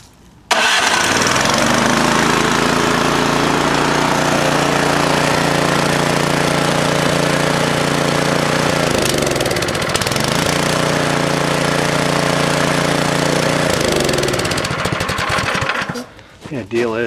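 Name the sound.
Craftsman snowblower engine running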